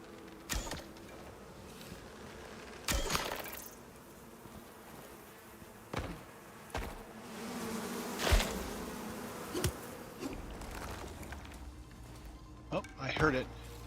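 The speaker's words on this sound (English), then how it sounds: "Bees." Bees buzz inside a cave in the survival game Icarus, a steady low drone that lasts throughout with scattered sharp clicks and thuds from the game layered over it.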